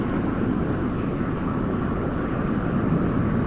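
Aircraft engine in a flight simulator game during a landing approach, a steady, even drone that holds level throughout with no talk over it.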